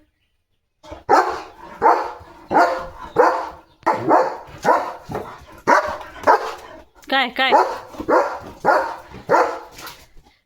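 A German Shepherd barks loudly and repeatedly at another dog in the distance, about a dozen deep barks in a steady rhythm with a brief yip among them. A person speaks briefly between the barks.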